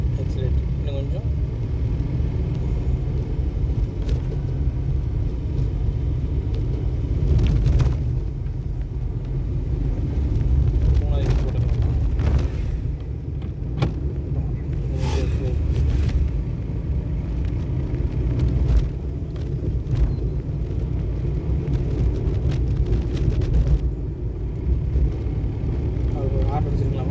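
A car moving along a road during a driving lesson, its steady low engine and road rumble continuous throughout while an instructor talks over it.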